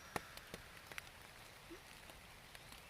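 Light drizzle falling outdoors at a forest campsite, heard as faint, scattered raindrop taps and patters against a steady soft hiss, with no one talking.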